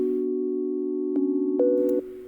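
A synth melody built in FL Studio, its low end cut away with Parametric EQ 2, plays as clean sustained tones that step up and down in pitch, heard alone.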